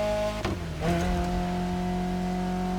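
A car engine in The Crew Motorfest video game drones steadily at high revs, with a couple of brief shifts in pitch early on, loud and continuous with no talking.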